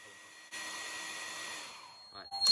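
A hairdryer blows steadily on a heat detector during a fire alarm test, a quiet, even whir that switches on abruptly and runs for about two seconds before a brief voice at the end.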